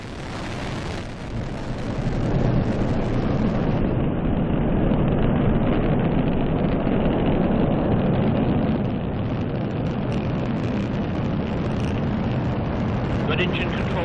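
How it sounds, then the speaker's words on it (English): NASA Orion rocket lifting off at dawn: a deep, continuous roaring rumble that swells within the first seconds and holds steady and loud, with a commentator's voice running over it. "And liftoff at dawn. The dawn of Orion and a new era of American space exploration."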